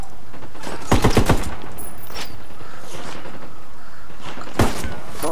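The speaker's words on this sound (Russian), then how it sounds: "А кто-то стреляет." Gunfire in the video game Ghost Recon Wildlands: a rapid burst of several sharp shots near the start, a lone crack midway and a short double shot near the end, all against a quiet outdoor background.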